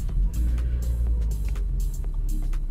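A Toyota Yaris with keyless push-button start runs its engine close by, a steady, deep low rumble that holds throughout with faint clicks over it.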